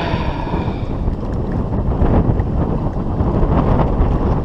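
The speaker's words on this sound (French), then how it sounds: "Ce putain de vent il me casse les couilles." Heavy wind buffeting the microphone on a boat on open water at a carp fishing spot, a continuous loud low roar with gusty swells and no speech over it.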